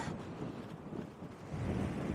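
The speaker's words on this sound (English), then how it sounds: "this wind is so brutal" Strong wind buffets the microphone on an exposed fell-top at Cat Bells, a steady roar that rises in force toward the end, with no voices.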